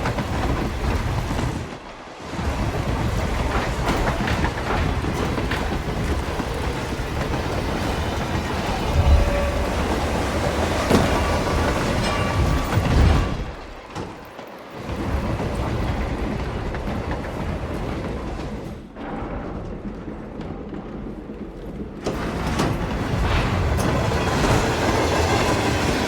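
Train from the video game Hitman 3 rumbling steadily along the rails, a dense, loud rolling roar with faint clickety-clack, briefly dropping out a few times before surging back.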